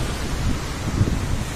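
Heavy surf crashes against a concrete seawall during strong swell at Mar del Plata, heard as a loud, continuous roar with wind buffeting the microphone.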